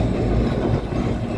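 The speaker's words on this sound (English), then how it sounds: "that one of the heritage trams right there." A heritage tram in Blackpool rumbles past close by, a heavy low clatter of wheels on track filling the moment with no voices.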